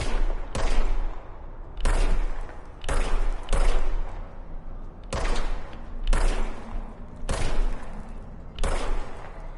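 Gunfire in the game Control, loud repeated bursts of shots in about eight distinct volleys, each a sharp blast followed by a short rumbling tail, with no talk.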